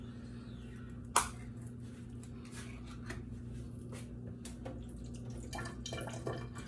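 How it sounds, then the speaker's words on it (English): Water drained off canned Grace butter beans while making brown stewed oxtails, heard as light, steady trickling and dripping with a sharp clink near the start and faint kitchen clatter throughout. "I'm draining off the water."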